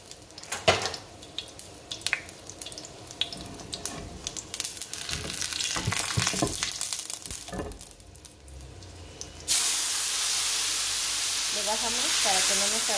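Green mole mixture hits hot fried onion in a pan and bursts into a loud, steady sizzle that carries on alone after some clattering stirring and utensil knocks.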